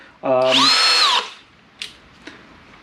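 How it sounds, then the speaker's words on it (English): A Kobalt 24V brushless power drill whirs at high speed for about a second, spinning up and winding down, followed by two brief clicks. "Let's see what we can drill through."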